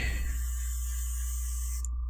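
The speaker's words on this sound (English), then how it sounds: "A bit of test spray." A short hiss of an airbrush test spray for under two seconds over a low electrical hum, cutting off abruptly at the end.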